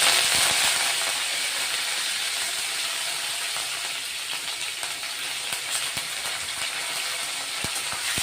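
Curry leaves crackling and hissing in hot oil with mustard seeds and cumin, a loud steady sizzle with sharp pops scattered throughout, close up.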